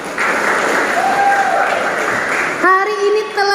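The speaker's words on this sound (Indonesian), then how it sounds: "Tepuk tangan untuk anak-anak." Dense clapping from a congregation at a Christmas church program, praising the children, fills the first few seconds at steady volume, then gives way to sustained, tonal music.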